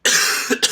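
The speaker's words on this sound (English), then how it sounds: "I got to cough this one out." A man with a cold coughs once in a harsh, raspy burst, then follows with two short throat-clearing hacks, close and fairly loud.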